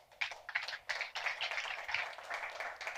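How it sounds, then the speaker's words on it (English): Applause from a small audience at a Porto pitch event, a thin patter of claps, fairly faint and steady for a few seconds. "please give me a round of applause to Sérgio Rodrigues"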